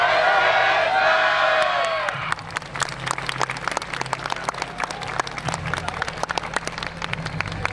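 At an outdoor 2022 YOSAKOI dance event in Hokkaido, a crowd claps along in a steady, brisk rhythm after a short burst of cheering and music, the many hands sounding moderately distant and continuous.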